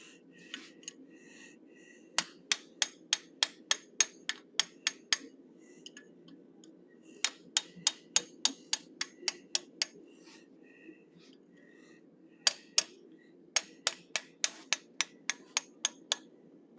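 Sharp, bright hammer strikes ring out on an 1/8 inch fuller against forged metal in quick rhythmic bursts of about eight to ten blows, separated by short pauses, close and clear over a low background hum.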